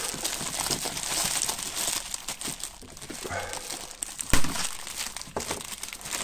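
Plastic bag packaging from a parcel unboxing is crinkled and pulled open, a close, continuous rustle with a sharper tearing crackle partway through.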